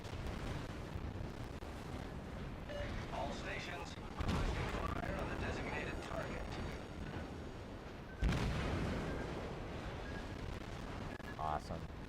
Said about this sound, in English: You can turn and use your guns on the left or right side of the ship to fire at the enemy.